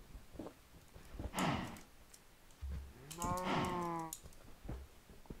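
Two loud video-game cow moos sound a couple of seconds apart, with faint clicking in the background and no talking.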